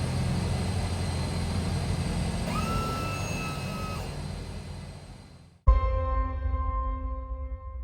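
A Twin Otter turboprop taxis in at St. Barthélemy, its engines making a steady droning whine with high tonal notes that drop sharply and then settle into a lower hum.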